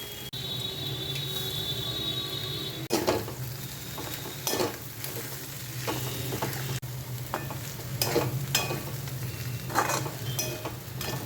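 Green jackfruit and prawns fry together in a pan with a steady, moderate sizzle, broken by repeated scraping stirs. Insects chirp faintly in the background.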